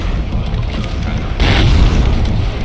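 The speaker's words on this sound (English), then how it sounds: "this is the third weapon, which is the super shotgun" A super shotgun fires once in the Hellreaver video game, a loud heavy boom that swells midway over a constant low rumble of game ambience.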